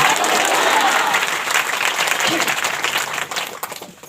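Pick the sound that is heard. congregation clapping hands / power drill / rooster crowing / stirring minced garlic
congregation clapping hands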